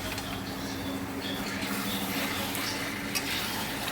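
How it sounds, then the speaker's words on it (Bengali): Meat is sautéed (kosha) in a pan, giving a faint, steady background sizzle with occasional soft stirring noises and a low hum throughout. "মাংসটাও কষছে, দারুণ এসছে বলো"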